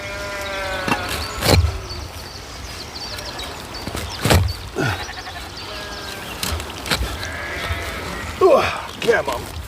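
Sheep bleat nearby, a few wavering calls near the start and end, mixed with sharp knocks and clatter over steady background noise.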